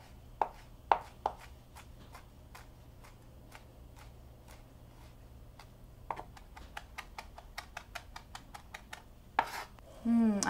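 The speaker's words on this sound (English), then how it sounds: "give it a nice little chop" A knife chops fresh tarragon on a cutting board, a run of crisp, evenly spaced taps that speed up into quicker clusters toward the end, close and fairly quiet, with no talking.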